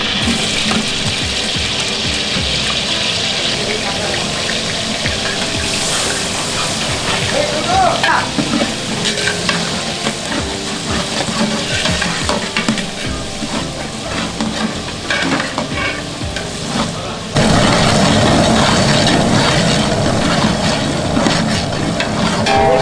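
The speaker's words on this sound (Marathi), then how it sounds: "अभी कांदा को फ्राई कर रहे हैं तेल में" Onions frying in hot oil for a large batch of vegetable pulao, a loud, steady sizzle with stirring scrapes that continues unbroken throughout.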